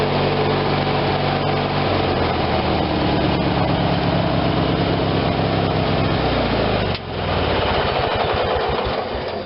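Briggs and Stratton twin-cylinder engine on a regular lawn tractor, idling at a steady, even chug that stays loud and close throughout, with a brief dip near the end and no talk over it.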